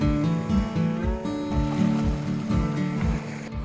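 Waves wash rhythmically onto a small beach on the Turkish coast in late afternoon, a steady, fairly loud surge with regular pulses and no talking.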